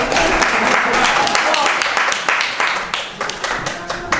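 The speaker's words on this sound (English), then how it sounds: "Round of applause for potato salad." Guests at a wedding reception applaud, a burst of clapping that thins into scattered individual claps toward the end, with talk mixed in.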